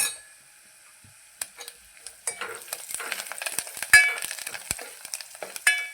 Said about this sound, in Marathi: हळद छान तेलामध्ये मिक्स झाली की त्यामध्ये लगेच आपण कोथिंबीर टाकून घेऊ